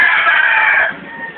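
A rooster crows once, loud and close, at a Philippine farm where fighting cocks are kept, a single drawn-out call with no talk over it.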